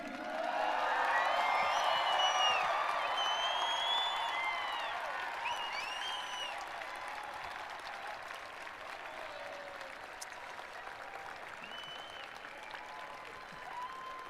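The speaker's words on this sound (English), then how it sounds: "Let's clap it up for the class of 2023." Applause at the Ida B Wells High School class of 2023 graduation ceremony, a large crowd clapping steadily for several seconds with scattered whoops, loud at first and slowly easing off.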